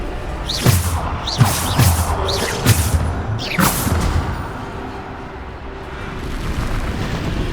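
Bombarda explosion spell in Hogwarts Legacy, a run of loud booming blasts with whooshing tails, about five in quick succession over the first four seconds, then a low rumbling ambience.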